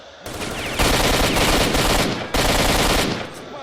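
Rapid automatic gunfire in the video game S.T.A.L.K.E.R.: Shadow of Chernobyl, two loud sustained bursts separated by a brief gap, close and dense, with no talk.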